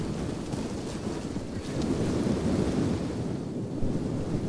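Boulders crashing down and rolling across a battlefield in the strategy game Total War: Rome 2, a continuous low rumbling roar like distant thunder, steady and heavy with no clear separate impacts.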